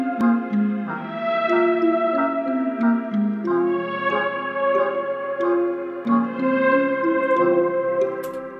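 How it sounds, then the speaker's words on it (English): A dark music sample processed with RC20 and reverb and no EQ plays alone, with layered sustained tones stepping through chord changes and echoing transient hits over a steady level. "I added a RC20 and a reverb, no EQ on this one, and this is what it sounds like so far."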